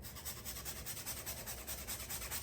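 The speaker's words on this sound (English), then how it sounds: "You can leave the skin on when you're grating it." Fresh ginger with its skin on rubbed over a grater, a steady rhythmic rasping of quick even strokes, close and fairly quiet, no talk.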